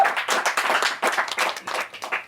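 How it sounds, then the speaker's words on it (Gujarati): Audience applause for Mitra at a Gujarati movie promotional chat, a burst of dense clapping rising and falling across the moment with no voices over it. "એક વખત જોરદાર તાળીઓ મિત્ર માટે."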